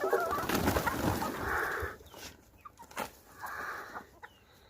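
Chickens on a farm in the Garden Route of South Africa cluck and murmur close by, with busy overlapping calls at first, then quieter, sparser clucks and a couple of drawn-out squawks.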